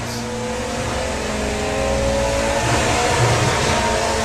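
A VW Beetle drag car accelerates down the strip at a Bug Jam eliminations meet at Santa Pod, making a loud, continuous engine roar that builds slightly in intensity over a few seconds.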